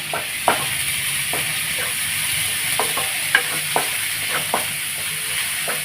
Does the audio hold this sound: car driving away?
no